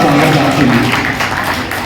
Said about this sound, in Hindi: एक बार तालियां मेरे कहने से बजाइए भाई।